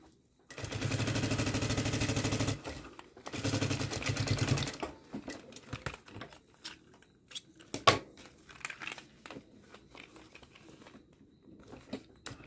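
Sewing machine stitching along the edge of a fabric pencil case, two loud sustained runs of rapid stitching followed by scattered short bursts and handling clicks, close up with no talk.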